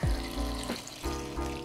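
Purified water pours into a jar packed with vegetables for pickling, a close gurgling stream with rising, glugging tones that restart in a few short pulses.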